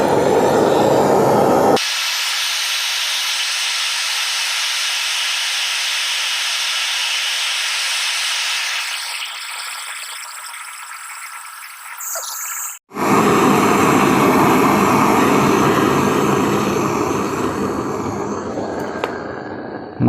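A loud, steady roaring hiss of an LPG torch heating thick iron runs throughout, briefly cutting out and then resuming, close and constant.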